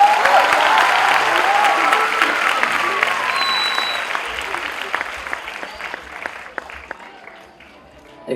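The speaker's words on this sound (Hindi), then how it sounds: "जब जोरदार तालियां बजती है" Crowd at a celebration event applauds loudly, dense clapping mixed with cheers and whistles that gradually fades out over several seconds, ending with a brief voice.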